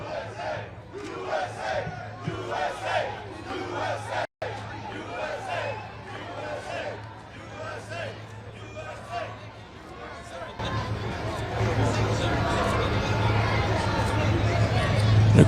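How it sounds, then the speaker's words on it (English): Loud crowd next door to a New York City street stop cheering on Donald Trump, with shouts and chanting over babble and chatter. The roar becomes a denser, steadier wash toward the end. "Obviously, a very loud crowd here with a lot of people across,"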